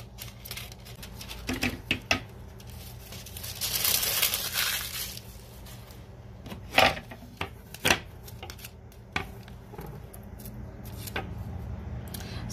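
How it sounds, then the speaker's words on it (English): Scissors snip through material for an embroidery hoop suncatcher, making close, irregular crisp cuts and crinkles with scattered sharp clicks and a short rustling burst. "So I'm just going to cut it out."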